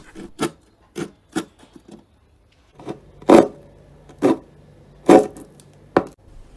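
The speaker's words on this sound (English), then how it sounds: "I ended up using my Swiss knife saw blade." A Swiss Army knife saw blade cuts wood while a classical guitar is converted into a resonator guitar: about a dozen short, uneven rasping strokes, close and fairly loud, with brief pauses and no talk.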